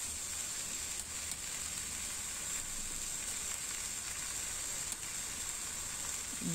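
Water spinach with dried shrimp stir-fries in a hot pan, giving an even, continuous sizzle and hiss with a couple of faint stirring knocks.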